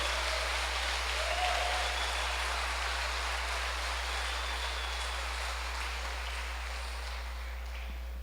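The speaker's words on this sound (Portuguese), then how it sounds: "Dê para Jesus uma forte salva de palmas" Congregation in a church clapping for Jesus, a steady, fairly faint broadband wash of applause that sounds distant and rain-like, over a constant low hum, with no talking.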